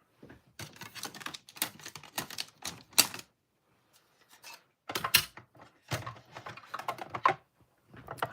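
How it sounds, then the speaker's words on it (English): A small paper cutter slicing craft paper, heard as bursts of scraping, rasping strokes separated by short pauses, close and fairly quiet with no talking. "I'm going to bring my little cutter in here"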